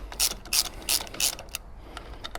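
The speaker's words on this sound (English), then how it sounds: "ideally you just want to take the pressure off on a couple of the bolts at a time" Ratchet clicking in four short bursts while loosening the clutch bolts on a Lexmoto Venom 125 motorbike, close and crisp, followed by fainter scattered clicks and light workshop handling.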